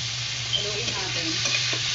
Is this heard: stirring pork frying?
yes